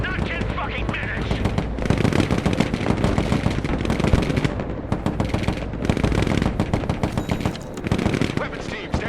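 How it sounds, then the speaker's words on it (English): Direct gunfire in the video game Broken Arrow: loud, dense bursts of automatic weapons and heavy shots rattle almost continuously, layered with booming impacts. "Engaging targets with direct fire."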